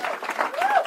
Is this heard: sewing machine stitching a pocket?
no